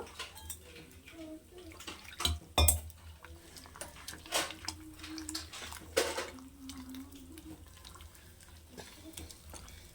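Patishapta batter being mixed by hand in a bowl, giving soft irregular squelches and wet slaps with occasional knocks of a utensil or bowl rim, close and quiet with no talking.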